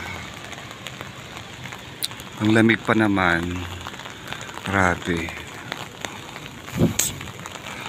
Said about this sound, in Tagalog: Ay, nako, umuulan na.